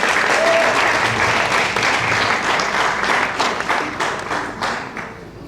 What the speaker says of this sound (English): Let's give them one more big hand of applause.